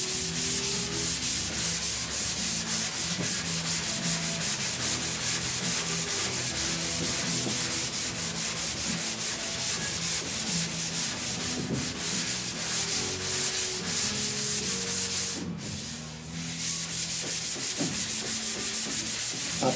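Steady back-and-forth rasp of block sanding primer surfacer on the rusty roof of a 1969 C10 truck, continuous and close with brief pauses, no talk.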